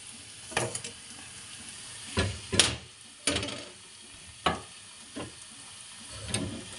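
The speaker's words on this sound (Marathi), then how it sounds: "भाजीला तुम्ही ना वरून असं तडका पण देऊ शकता बघा." Garlic and ginger paste tempering in an iron kadhai makes a soft, steady sizzle, broken by several distinct knocks and scrapes of a spoon against the metal, heard close with no talking.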